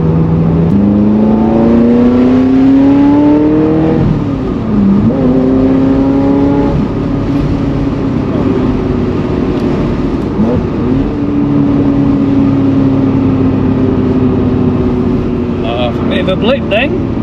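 Ferrari 355 engine revving hard, pitch climbing and falling through several sharp throttle blips, close and loud, with a voice briefly talking over it.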